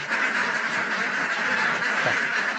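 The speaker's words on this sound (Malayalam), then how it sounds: "ഇതൊക്കെ ആൺതാറാവുകളാണ്" Male ducks on a mixed farm quack loudly and continuously, many birds calling at once in a dense, overlapping flock chorus with no talk.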